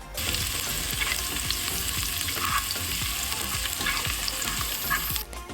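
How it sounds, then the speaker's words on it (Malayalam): Loud, continuous sizzling of shallots frying in hot coconut oil, with crackling pops and occasional stirring scrapes throughout. "ചെറിയ ഉള്ളി ഇട്ട് കൊടുക്കാം ചെറിയ ഉള്ളിക്ക് നല്ല ടേസ്റ്റാണ് പിന്നെ അത് നല്ലോണം വയറ്റി കൊടുക്കുക"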